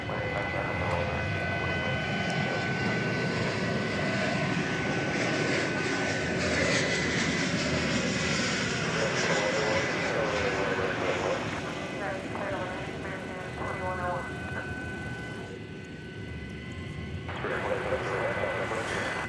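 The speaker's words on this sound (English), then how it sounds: "How about a Spirit Yellowbird coming in from Los" Spirit Airlines Airbus A321neo landing at DFW Airport at night, a sustained jet engine rumble and whine heard under an ongoing voice talking, with some chirping tones mixed in.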